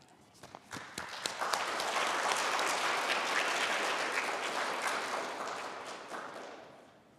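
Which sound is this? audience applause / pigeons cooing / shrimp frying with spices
audience applause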